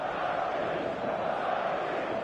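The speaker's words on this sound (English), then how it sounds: "The stadium is full of noise and energy." A packed stadium crowd at a Haitian football match roars with a dense, constant wash of voices and chanting. The noise stays steady and enveloping throughout, with no single voice standing out.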